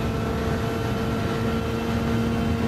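A turbocharged Nissan Skyline Super Silhouette '84 race car in Gran Turismo 7 holds a loud, steady engine drone with strong humming harmonics, continuous and close.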